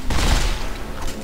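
A brief, dense burst of gunfire in Dead Space 3, loud and close, a continuous rattling volley with no talk over it.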